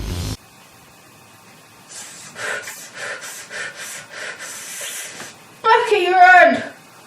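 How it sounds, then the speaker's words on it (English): A played-back recording of a person panting in their sleep, a series of rhythmic, breathy gasps and huffs over faint static hiss, ending in a louder, strained vocal sound. "you can hear me panting really bad"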